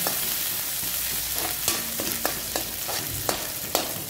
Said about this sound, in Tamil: ரெண்டு பச்சை மிளகா பொரிய ஆரம்பிச்சிடுங்க